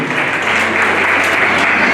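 Steady, loud applause from an audience fills a school dance event for two children, a continuous wash of clapping with no gaps.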